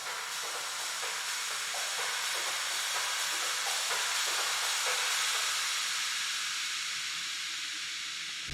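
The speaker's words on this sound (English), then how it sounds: "it's almost like a white noise riser" A white noise riser made from drum bus reverb hisses steadily for about eight seconds, airy and bright like steam, with faint rhythmic drum traces underneath and no voices.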